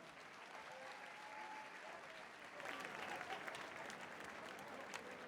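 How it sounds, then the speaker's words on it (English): An arena crowd at a combat-sports fight night applauds after a three-round bout, a dense, steady wash of clapping that swells slightly midway, heard at a distance and sustained throughout. "Round of applause, come on."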